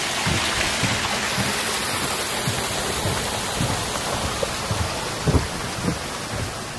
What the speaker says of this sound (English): Cute little waterfall.